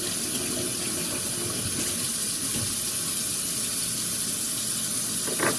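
Tap water runs steadily into a sink while parts of a water drop splash kit, including a small aluminum drip tube, are rinsed, making a continuous close hiss and splash with no talking.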